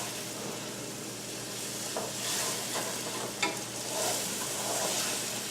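Potatoes fry in oil in a pan for vegan breakfast potatoes, a soft, continuous sizzle with a few stirring scrapes and clinks, heard close with no talk.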